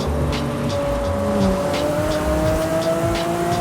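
A 1200-horsepower twin-turbo V12 Lamborghini Countach in Forza Horizon 5 drones steadily at high revs with a rising pitch, mixed with tire and road noise and faint ticking, with no one speaking.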